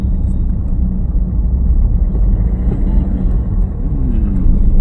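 A car drives along an open road with a loud, continuous engine and road rumble close by, building slightly as it speeds up.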